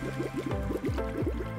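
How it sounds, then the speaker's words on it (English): Water poured into a small Hatchimals toy bottle, with rapid gurgling and rising bubbly tones as the bottle fills, close and clear, no talking. "Take the bottle and fill it with water."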